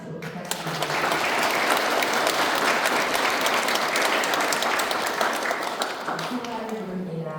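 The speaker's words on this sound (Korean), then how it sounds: "큰 박수로 부탁드립니다." A congregation at a Won Buddhist Sunday service bursts into sustained, dense applause that fills the room for several seconds, then tapers off near the end.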